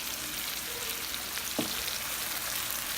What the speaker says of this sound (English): so that my mushrooms can saute and get that nice brown color on all of them.